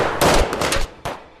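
Cannon and gunfire in a Finnish Civil War battle scene: a loud sharp burst followed by rapid cracking shots over about a second, then a short pause and one more abrupt report.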